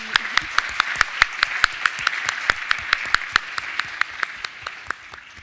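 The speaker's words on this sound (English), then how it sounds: "let's give a big round of applause for our speakers" Workshop audience applauding speakers: a moderate crowd of hands clapping steadily and close, individual claps standing out, tapering toward the end.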